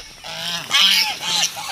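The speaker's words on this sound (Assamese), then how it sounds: "হাঁহ আছে" Geese honk in a park, several close, loud nasal honks in quick succession, a few overlapping calls over a brief stretch with no talk.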